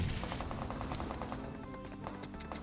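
Automatic gunfire from a boat on the water in the battle royale game PUBG Mobile, a quick rattling burst of evenly spaced shots over a steady engine drone, short and moderately loud.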